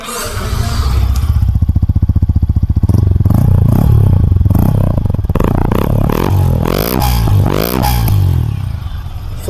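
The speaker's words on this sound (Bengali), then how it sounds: "তোমাদের এখন বাইকের একটু এক্সা সাউন্ডটা শুনিয়ে দিই" Loud and close, a 2024 Yamaha R15M Monster Edition motorcycle's exhaust idles with a rapid pulsing beat, then is revved in repeated rising and falling bursts.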